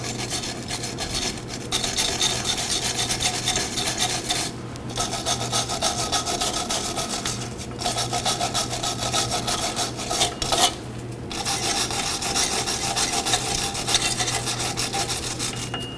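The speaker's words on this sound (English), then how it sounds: "I'm going to go ahead and clean all the mating surfaces." Brake mating surfaces are scrubbed clean on the rear drum brakes of a 2014-2019 Nissan Sentra, producing close, continuous rasping strokes broken by a few short pauses.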